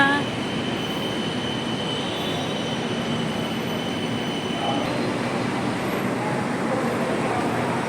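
An electric train rolls past close by, a steady loud rumble with a high metallic wheel squeal running through it.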